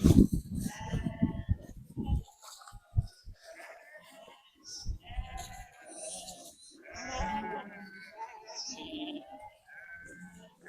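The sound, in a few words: flock of sheep and lambs bleating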